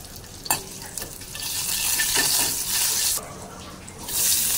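Cumin and green chillies hit hot oil in a kadhai, giving a steady close-up sizzle and crackle with scraping stir sounds; the frying swells louder partway through and keeps going to the end.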